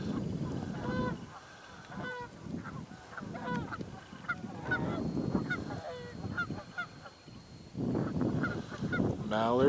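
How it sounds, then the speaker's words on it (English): Mallard ducks call from a river, a run of nasal honking quacks repeating in loose bursts at middling distance, with a few louder clusters toward the end over steady flowing water. "Mallards. Yeah, the mallard population has definitely picked back up."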